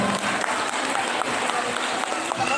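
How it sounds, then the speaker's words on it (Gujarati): An audience at a children's fair in Ahmedabad claps in a steady burst of applause, a dense patter of many hands holding at an even level throughout. "એના માટે ખૂબ ખૂબ તાળીઓ થઈ જાય"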